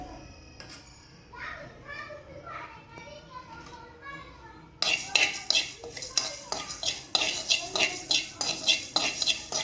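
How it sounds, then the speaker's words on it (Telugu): Fenugreek and mustard seeds roasting dry in a pan for raw mango chutney, with a spoon scraping and clinking against the metal in a quick repeated rhythm that grows louder midway, while a voice speaks in the background. "దోరగా వేయించుకుందాం."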